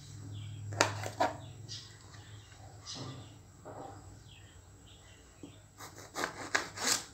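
Ivy gourd being sliced thin with a knife on a board for a crispy fry, a few scattered crisp cutting strokes at the start and a quick cluster of close slices near the end, with quieter rubbing between.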